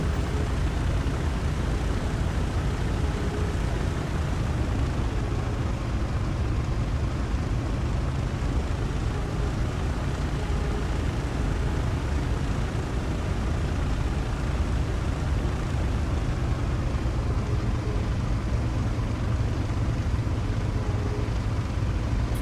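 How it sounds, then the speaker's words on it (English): A World War II fighter plane's piston engine taxis in the IL-2 flight simulator game, a steady, loud, low droning rumble that holds constant throughout with no talk over it. "just properly taxi to the runway using rudder and toe brakes to steer just as you would with an actual airplane"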